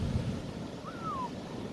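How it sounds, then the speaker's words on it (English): Ocean waves break on the beach at Camp Pendleton with a steady, broad roar of surf mixed with wind buffeting, and a brief thin whistling tone rises and fades midway. "Oh yeah, good waves. Look at those waves."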